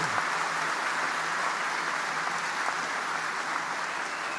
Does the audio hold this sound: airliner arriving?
no